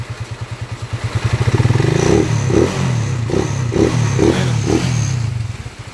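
A 200cc-converted motorcycle engine idles with a steady pulsing thump, then revs up hard several times in a row, each burst rising and falling, loud and close in the rain.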